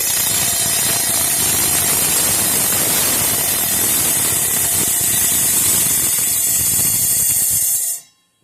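Rock saw cutting through rock, a loud continuous grinding whine with a harsh high-pitched hiss as the motor labours under load, running steadily for about eight seconds before cutting off abruptly.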